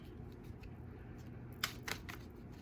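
A deck of tarot cards is shuffled quietly, with a few soft riffling snaps standing out over a low steady background hum.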